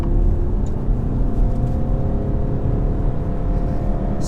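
A 2017 VW Tiguan with a 150hp engine revving out under hard acceleration, a steady loud droning engine note heard from inside the cabin with constant road and drivetrain rumble.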